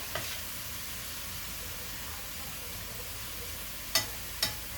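A braised beef mixture with onions sautéing in a pan gives off a quiet, steady sizzle and hiss throughout, broken by a couple of sharp spoon clinks near the end.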